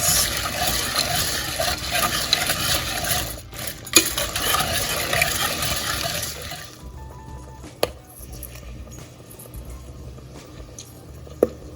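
Cranberries simmering into sauce in a pot on a medium-low stove, bursting as they are stirred: steady bubbling and scraping that then thins to sparse soft pops and clicks, with occasional utensil taps on the pot.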